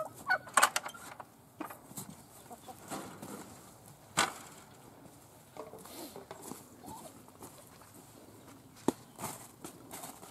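Turkeys and chickens peck and scratch at leftover dried apple pulp from cider pressing, with scattered soft taps, shuffling footsteps and an occasional sharp peck or low gobbling cluck close by.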